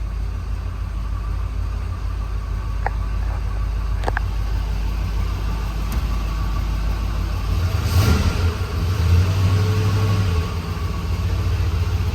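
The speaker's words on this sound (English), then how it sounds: "Truck's running good." A 1973 Chevrolet K20 truck engine running on an EFI fuel system idles steadily with a deep rumble, a couple of faint clicks early on and a slight rise in revs partway through.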